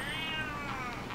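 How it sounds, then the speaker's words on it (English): A pet cat meows at close range, a single drawn-out, wavering cry with a rising and falling pitch, heard alone without speech. "My cat is on a rampage."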